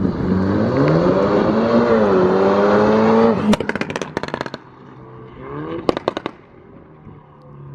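Tuned BMW F32 428i running E85 with an upgraded charge pipe and intercooler revs hard, then lets out sharp crackling exhaust pops in rapid bursts, loud and close outdoors.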